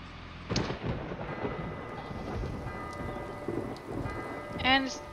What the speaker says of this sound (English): And it begins to rain